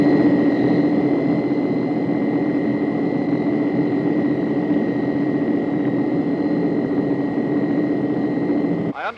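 A steady, loud drone of a four-engine propeller airplane hums continuously with a constant tonal whine, like sitting inside the aircraft in flight.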